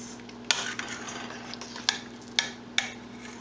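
A spoon stirs lentil and barley vegan soup with finely cut carrots in a pot. A few sharp clinks and scrapes stand out against a steady low hum, with no talking.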